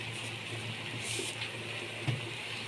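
Water is poured into a cooking pot of lentils and rice sautéed in oil, a soft continuous splashing hiss at moderate distance with no voices.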